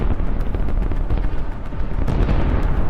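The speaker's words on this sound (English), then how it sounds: "Look at the massive explosions and the detonation of the ammunition." Loud, continuous rumbling blasts with sharp cracks of detonations from missile strikes on launchers and exploding ammunition, dense and overlapping with no pauses.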